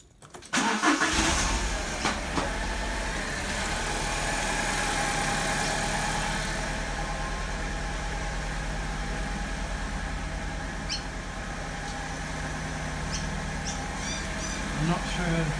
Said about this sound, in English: I have a miss on idle and accelerating.